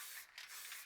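Spray paint can hissing out cactus green paint in a steady burst with a brief dip midway, close and alone.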